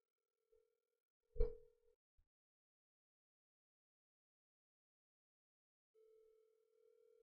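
Faint telephone ringback tones while calling, a short tone, a louder burst with a thud, then a steady tone returning near the end, sparse and quiet with long silence between.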